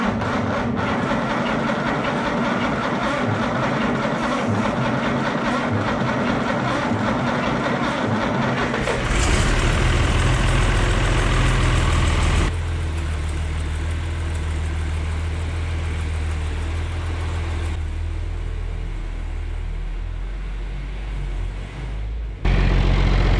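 A John Deere 2940 tractor's diesel engine idles steadily up close, a deep low rumble that shifts in tone partway through, with no talking.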